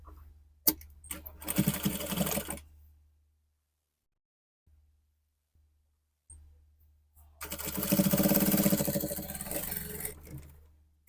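Sewing machine stitching a baby dress, two short close bursts of rapid stitching separated by several seconds of near silence with light handling clicks.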